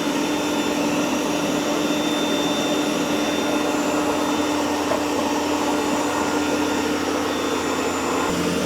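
An Ecovacs Deebot X2 Omni robot vacuum and mop runs with suction boosted on carpet, giving a loud, steady, continuous whir and hum that never lets up.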